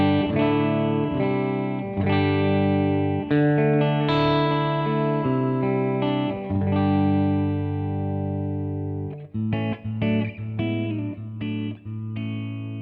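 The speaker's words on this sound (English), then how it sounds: "With nothing on, just the amplifier, the guitar sounds like this." Clean electric guitar through an amp, ringing chords strummed and picked, bright and chimey with sustained notes, then a few choppier stabs near the end.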